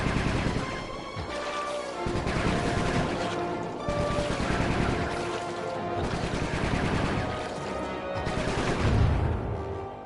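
Rapid gunfire bursts from the Sly 3: Honor Among Thieves video game, loud repeated volleys over a busy game soundscape with brief gaps between bursts.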